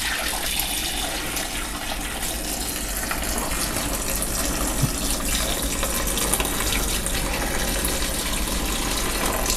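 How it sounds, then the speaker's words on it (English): Homemade chicken bone broth poured too fast from a pot, a steady gushing, splashing liquid stream running continuously and fairly loud, with some spilling over the side. "You're pouring it too fast. It's going out the side."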